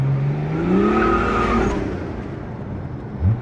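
400 HP BMW drift car launching hard. A loud engine revs up while the tires squeal and skid, then the sound fades as the car pulls away, with a brief thump near the end.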